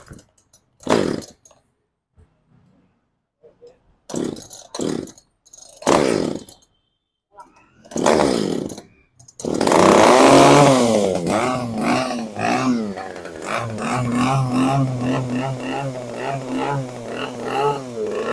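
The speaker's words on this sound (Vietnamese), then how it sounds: "Rồi xin phép test nổ cho anh em nghe tiếng máy luôn." A Japanese Echo chainsaw with a 37 mm piston and cylinder starts after several short pull attempts, then runs loud and close, revving and settling into a steady roaring idle with rising and falling engine pitch.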